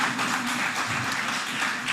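Conference audience claps for a speaker at a presbytery leaders gathering, a steady, fairly dense round of applause held at an even level without voices on top.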